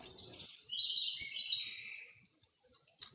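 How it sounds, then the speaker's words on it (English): Birds chirp and trill on a spring morning, one clear high-pitched song rising and falling for a couple of seconds with a short chirp at the end, heard alone with no voices. "Beautiful morning. The birds chirping."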